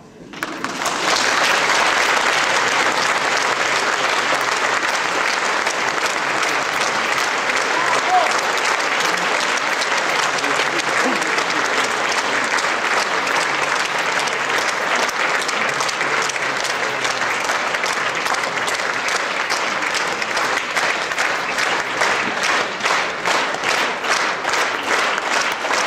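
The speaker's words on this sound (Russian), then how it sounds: "Мы присоединяемся к вашим аплодисментам." Sustained, dense applause from a concert audience at a memorial bard-song evening, loud and even throughout, with faint rhythmic clapping emerging toward the end.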